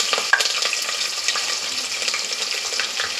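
Chillies frying in hot ghee give a dense, steady, close sizzle with a few crisp pops near the start, loud and unbroken, with no talk.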